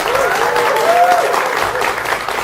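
A studio audience at a live Indonesian television broadcast, including students in yellow jackets from Universitas Indonesia's Faculty of Administrative Science, breaks into steady, dense applause that stays loud and even throughout, with no talking over it.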